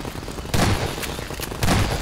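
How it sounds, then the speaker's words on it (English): Gunfire in Half-Life 2 Episode Two, aimed at antlions, comes as loud, close, sharp shots, about four bursts with heavier booming hits near the middle and end, no talking. "let's shoot some antlions"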